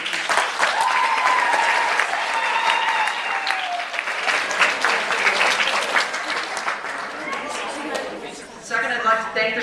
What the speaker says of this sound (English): give a round of applause to the teachers